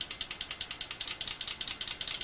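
An engine fitted with a water fuel injection system idles with rapid, regular ticking pulses, about eight per second, crisp and fairly quiet over a faint low hum.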